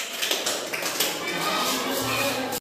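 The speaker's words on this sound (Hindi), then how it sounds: "हाँ, ताली हो जाए सलोनी के लिए।" Schoolchildren in a classroom clap for a classmate, producing a thick, continuous burst of many hands close by while an adult voice speaks over the clapping.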